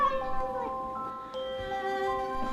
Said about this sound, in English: Oh, Figaro, you're such a good little kitty cat